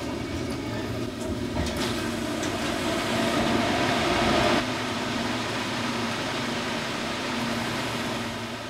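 A subway train rolls along in Seoul, a steady loud rumble and whir of the carriage filling the space throughout, with a slight swell midway and no talking.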